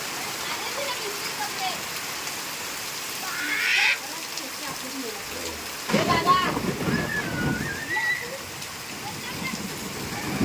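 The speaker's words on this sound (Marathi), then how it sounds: "फायनली पावसाने सुरुवात केलेली आहे" Steady hiss of the first monsoon rain falling on surfaces in the Konkan countryside, growing denser midway, with a few faint bird calls and brief noises in the background.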